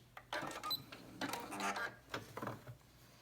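A sewing machine stitches forward and back on a fabric medical mask in short, quiet bursts, each run of needle clatter a second or less long. Short pauses separate the runs.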